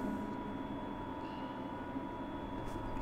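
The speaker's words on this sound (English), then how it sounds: "Train just arrived." A Glasgow Subway train in Train Simulator Classic rumbles in a steady low drone with a faint humming tone on top, quiet and constant throughout, with no talking.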